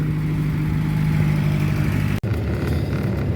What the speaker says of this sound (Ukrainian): моторчик взагалі іменно шепче. Такі гідрики якісь підстукують.